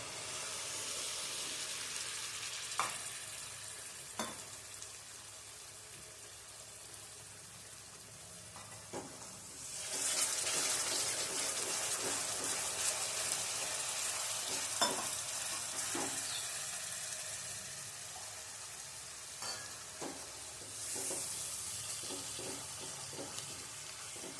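Tomato puree frying in a pan with brinjal stalk pieces for a Surati curry, a steady sizzle with repeated stirring clinks and scrapes, louder bursts of sizzling near the middle and end.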